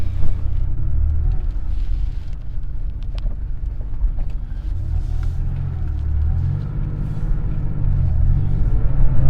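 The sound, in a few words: Porsche 911 engine cold start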